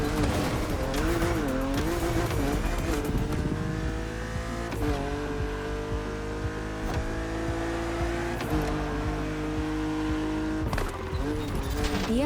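A BMW Z roadster races in The Crew Motorfest, its engine revving and changing pitch with repeated gear shifts while tyres squeal, loud and continuous throughout.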